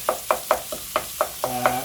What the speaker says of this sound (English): turn the temperature up so that we can start to brown it. Drive out the moisture, and it needs to be frying, not boiling